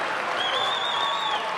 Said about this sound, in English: Now get this crowd fired up.